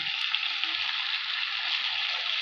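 Spices and prawns with teasel gourd fry in hot oil, giving a steady, bright close sizzle with faint stirring taps underneath and no speech.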